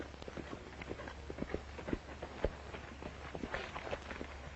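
Faint, distant hoofbeats of a racehorse galloping on a track pound in a quick, steady rhythm over a low background rumble.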